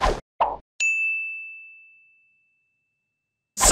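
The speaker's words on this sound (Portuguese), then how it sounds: "Solta a vinheta aí, editor" Channel intro jingle: two short plopping hits, then a bright bell-like ding that rings out and fades over about a second and a half, leaving near silence before a voice begins.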